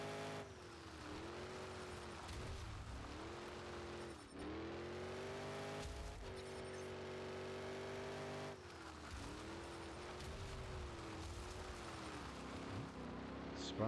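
Monster truck engine in Monster Jam Showdown revs loud and steady, pitch rising and falling as it spins out, with tire noise and game sounds throughout and a voice talking faintly underneath.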